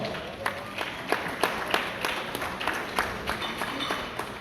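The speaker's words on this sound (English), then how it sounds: "Give the chairman a big round of applause." A crowd applauds the chairman at a healthcare gathering with the Sierra Leone ambassador, with steady, fairly distant clapping holding throughout and a few sharper claps rising above the wash.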